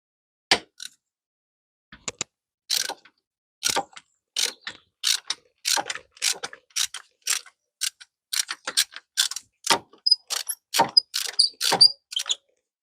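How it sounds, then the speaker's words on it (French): A ratchet wrench with a 14 mm spark plug socket removes a spark plug from a 1.4 TCE engine, giving quick runs of crisp, close clicks in uneven bursts separated by short pauses. "on va chercher la clé à bougie, puis on va enlever la bougie"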